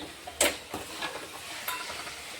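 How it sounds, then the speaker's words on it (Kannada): Dry roasted semolina tipped into a hot tempering in a pan and stirred, giving a soft scraping stir with light sizzling and a sharp clink of spoon on pan near the start, close and fairly quiet. "ಅದೇ ಒಗ್ಗರಣೆಗೆ ನಾವು ಹುರಿದಿಟ್ಟಿರುವಂಥ ರವೆ ಸೇರಿಸ್ಕೊಂಡಿನಿ"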